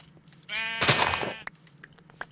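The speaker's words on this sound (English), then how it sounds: "And there's a sheep." A video game sheep gives one drawn-out, wavering bleat, clear and close, amid quiet background with a few soft clicks.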